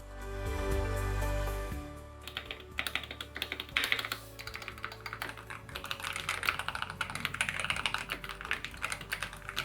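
Brisk keystrokes on a Logitech wireless mechanical office keyboard with a 98-key compact layout, a run of close, crisp clicks following a fading musical tone.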